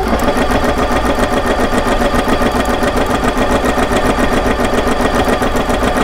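A sewing machine fitted with a straight stitch needle plate runs steadily with its presser foot down, giving a loud, fast, continuous mechanical whirr with a regular stitching rhythm throughout.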